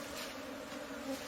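Bees buzz softly in a steady drone, a quiet continuous hum with no voices.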